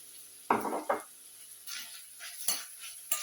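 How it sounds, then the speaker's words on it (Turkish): Several scraping stirs of a utensil through ground meat and onion in a pan, with a soft sizzle underneath, close and moderately quiet. "Şöyle bir karıştırıyorum hemen"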